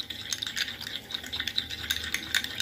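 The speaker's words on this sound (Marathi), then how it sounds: "मेयोनीज घ्यायचं आहे, त्याच्यामध्ये 1 टीस्पून आपण टोमॅटो केचप टाकतो आणि हे मिक्स करायचं आहे।" Mayonnaise and a teaspoon of tomato ketchup are mixed in a bowl, making quick, soft, rapid clicking and squishing strokes that stay close and fairly quiet.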